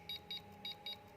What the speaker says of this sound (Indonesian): nah kita balik ke sini, nah dia beep